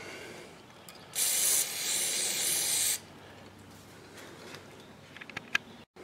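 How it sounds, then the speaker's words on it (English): Carb cleaner sprayed from an aerosol can into the primer hole of a Tecumseh carburetor on a Toro mower, a steady loud hiss lasting about two seconds, followed by quiet handling clicks. "We'll go ahead and shoot some brake or some carb cleaner down in this hole as well"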